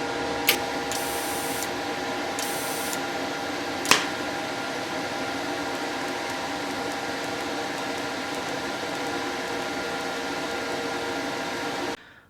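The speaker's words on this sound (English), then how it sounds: "So with the welder set as low as it would go with this torch on it, I went ahead and welded some razor blades together" An Amico TIG-225 TIG welder at its lowest setting welds razor blades together, producing a steady, even electric hum and buzz with a few brief sharp clicks near the start, then cutting off abruptly at the end.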